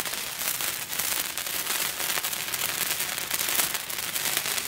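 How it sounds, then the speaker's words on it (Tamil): Sivakasi firecrackers crackle and pop continuously at close range, a dense, loud burst of rapid snapping reports lasting the whole stretch with no pauses. "புட்டு புட்டு உடையுது"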